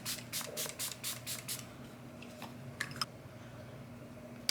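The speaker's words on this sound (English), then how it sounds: "do the Milani Make It Last. This one will have you making it last, basically. So we're just gonna spray our face." A fine mist of Milani Make It Last setting spray pumps onto a face in about seven quick, evenly spaced spritzes, soft and close, followed by a few faint clicks and quiet room hiss.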